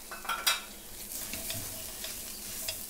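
Tomato paste with garam masala and paprika is stirred in a pan for braised beef short ribs, a steady soft scraping with a low sizzle and a couple of louder stirs near the start.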